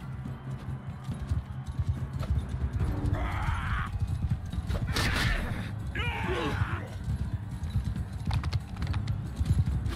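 Horse hooves clip-clop steadily through a Mount & Blade II: Bannerlord tournament, a continuous rhythmic trotting over a busy low rumble of game ambience, with a brief faint whinny-like burst partway through.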